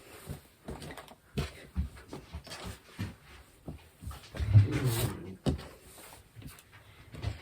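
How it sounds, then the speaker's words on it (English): Dogs playing in the background of a room where fabric is laid out for sewing, faint scuffling, thumps, panting and small vocal noises at irregular moments, no talking. "it's the dogs having a little play."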